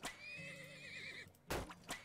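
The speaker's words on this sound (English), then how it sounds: "3 horses" A horse in the oil-drilling video game Turmoil whinnies once in a long wavering neigh, followed by a couple of short thuddy game sounds.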